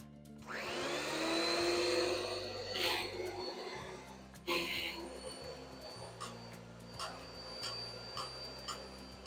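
A central vacuum system starts at a wall outlet during a DIY install and keeps running as a steady, loud whining hum, with a few clicks and knocks over it while a person talks quietly.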